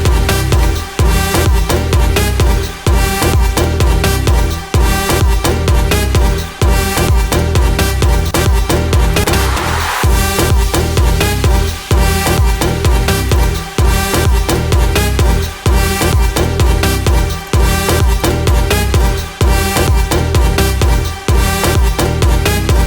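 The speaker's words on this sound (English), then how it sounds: "Let me play from the first part of the drop." An EDM drop produced in FL Studio, a loud, dense, full-spectrum mix driven by a steady pounding kick with regular rhythmic pumping and a brief riser-like swell midway, purely instrumental without voices.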